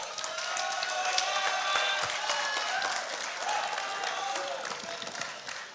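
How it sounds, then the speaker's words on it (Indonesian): A crowd at a business association leadership debate applauds continuously, dense clapping at a steady level throughout with faint voices mixed in. "kita berikan tepuk tangan untuk Caketum nomor urut 2."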